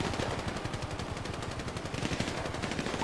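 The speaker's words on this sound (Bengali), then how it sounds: "আমরা কভার ফায়ার দিচ্ছি" Rapid automatic gunfire laid down as cover fire in a police roleplay video game, a dense, continuous stream of shots with no pauses, close and loud throughout.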